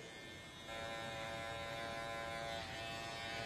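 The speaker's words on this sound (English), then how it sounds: "I'm just going to be working with the trimmer here." An Andis T-Outliner electric hair trimmer buzzes steadily while cutting a man's short hair, a close, continuous motor whine that grows louder after the first half second and holds alone without talk.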